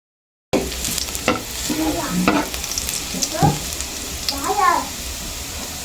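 Garlic frying in a hot pan for fish escabeche, a steady close sizzle with scraping stirs of a utensil, after a brief silence at the start, with a voice speaking briefly over it.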